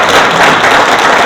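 After a morning lecture at a Gyeonggi Province association gathering, the audience breaks into applause, a loud, dense wash of many hands clapping together with no voices heard over it.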